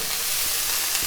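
Osso buco meat searing in a hot pan and being moved around, a dense steady sizzle and crackle with faint scraping, close and loud, with no voices.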